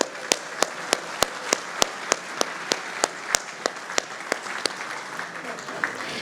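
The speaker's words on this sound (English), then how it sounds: "One more round of applause." Diners applaud at the Appowamus Club's annual dinner; one nearby pair of hands claps sharply in a steady rhythm above a softer, continuous crowd applause with faint chatter.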